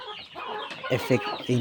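Bangkok chickens cluck in a colony-system coop, a close, lively burst of several short clucks and calls from a small flock of about forty birds.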